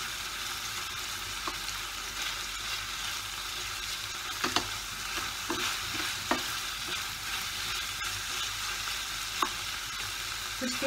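Spiced masala with tomatoes fries and is stirred in a pan for vegetable bajra millet pulao, a constant close sizzle broken by occasional sharp spoon taps and scrapes.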